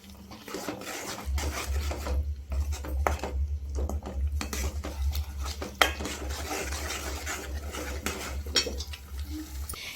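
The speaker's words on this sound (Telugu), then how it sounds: "ఇప్పుడు అల్లం ఎల్లిగడ్డ పేస్ట్ దీంట్లోనే వేస్తుంది మా మమ్మీ మిలానా కలుపుతున్నాం" A spoon scrapes and stirs ginger-garlic paste into a fish curry masala in a metal pot, giving a continuous close rasping and clinking over a low steady hum.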